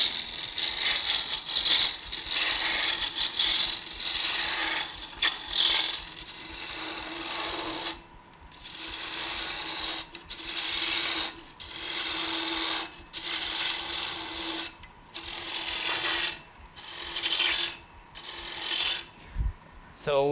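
Hand tool paring and shaving wood while a lamp is shaped to taper upward, a steady run of scraping, rasping strokes repeated in close rhythmic bursts with short pauses between them.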